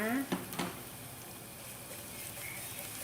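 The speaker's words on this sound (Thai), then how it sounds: "พอน้ำมันเริ่มร้อนเราใส่กระเทียมลงไปนะ คะ" Minced garlic dropped into hot oil in a pan, a brief clatter then a steady soft sizzle, close and fairly quiet with no talk.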